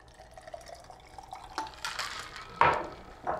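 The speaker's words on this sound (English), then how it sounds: "So then you're gonna pour that into your glass." A cocktail poured into a highball glass, heard as close liquid splashing and trickling with small glassy clinks, building toward a fuller pour near the end, with no talking.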